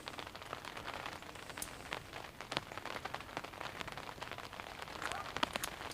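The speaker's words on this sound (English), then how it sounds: "Rain has begun to start here as well." Steady rain falling outdoors in Baltimore, a dense crackling patter of drops on surfaces, continuous and fairly close throughout.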